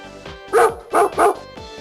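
A dog barks three times in quick succession, loud and close, over a steady musical backing in a children's English lesson.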